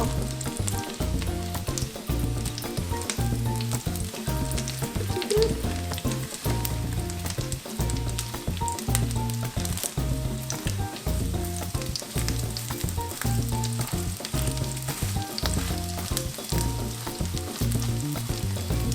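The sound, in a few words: tuna cakes frying in a pan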